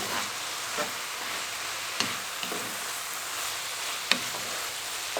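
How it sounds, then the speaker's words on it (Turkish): Green beans and onions in a pot being stirred, a soft continuous sizzle with a few distinct scraping clicks from the spoon scattered through it. "6-7 dakika pişirdikten sonra iyice bir karıştıralım"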